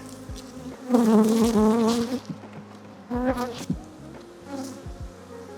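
Honeybees buzz loudly in close, wavering bursts, the swarm's drone rising and falling in pitch with short quieter gaps between surges.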